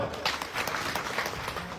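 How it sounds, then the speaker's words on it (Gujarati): An audience at a community meeting claps, giving a continuous patter of many hands that is moderately loud throughout the short stretch, with faint crowd murmur underneath. "તાળીઓ પાડો બધા"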